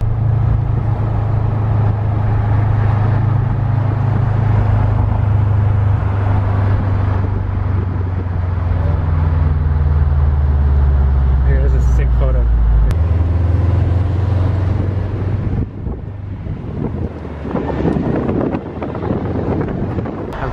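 A wide-body Subaru WRX on Toyo Proxes tires drives along with a loud, constant low engine drone and heavy wind buffeting, while someone talks over it throughout.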